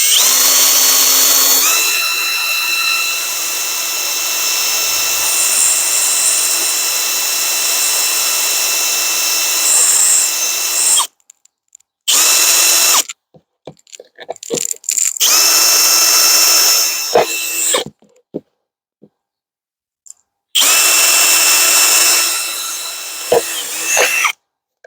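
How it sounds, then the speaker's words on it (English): A close, whining power drill drills holes in a plant pot in long bursts, stopping and restarting several times with brief quiet gaps and clicks between. "I use a drill"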